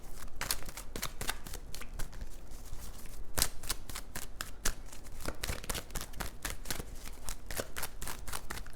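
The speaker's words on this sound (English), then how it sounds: "I'm going to pull one more card for your side first." Tarot cards being shuffled in a steady run of quick, crisp riffling flutters and taps, close and fairly quiet, with no talking.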